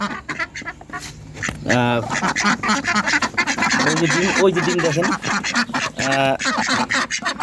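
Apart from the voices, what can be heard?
ducks quacking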